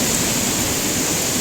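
Floodwater rushing through a jungle in Jajpur during heavy rain, a loud, continuous broadband roar of churning water, close and unbroken.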